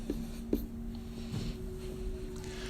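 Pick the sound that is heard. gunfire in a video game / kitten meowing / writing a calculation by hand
writing a calculation by hand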